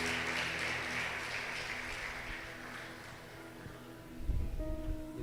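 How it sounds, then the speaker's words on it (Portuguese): Church congregation applauding during a worship service, a broad, sustained wash of clapping that holds steady through most of the stretch and swells briefly near the end. "Dê um aplauso bem forte ao Senhor."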